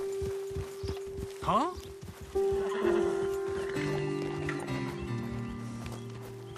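Horses in the Red Dead Redemption 2 video game clop along at a walk, then one lets out a loud rising whinny, with hoofbeats and rustling continuing while someone speaks briefly.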